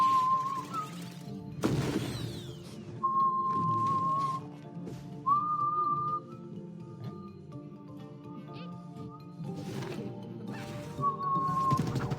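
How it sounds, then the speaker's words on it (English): A person whistles a few sustained single-pitch notes into a microphone, each held for a second or two with short gaps, close and clear over game sounds and occasional loud crashes. "I'm doing the whistle"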